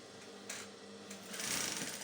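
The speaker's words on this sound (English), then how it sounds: "Then I'm going to bring it over to my sewing machine." A sewing machine stitches fabric for a shirt dress, a soft, steady mechanical whirr close by that rises slightly toward the end, with faint clicks as the run begins.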